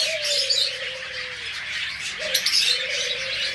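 Pet birds in a bird shop, budgerigars, forpus and lovebirds, keep up a dense bed of high chirps and twitters, with a longer whistled call over it.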